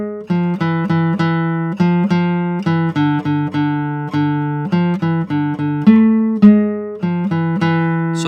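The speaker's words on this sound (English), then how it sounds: "the traditional Hebrew tune, Hava Nagila" A classical guitar plays the traditional Hebrew tune Hava Nagila with syncopated rhythm, clear plucked notes in an uneven, accented pattern, solo and close with no voices.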